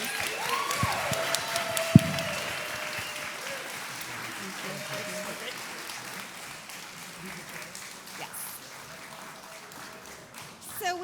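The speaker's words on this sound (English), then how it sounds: "Please give them a round of applause." Audience applause after a panel at SXSW in Austin, a broad wash of clapping from a crowd that gradually thins out. Voices are heard near the start, and the clapping swells slightly again at the end.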